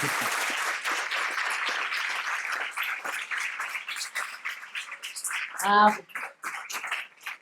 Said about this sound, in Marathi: आणि आपल्याला अजून एकदा टाळ्या द्यायच्या आहेत.